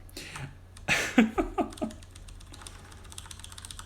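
Keys of a mechanical keyboard fitted with rubber O-rings pressed in a quick burst of several muted clacks, close up over a low steady hum, then fading to faint background noise.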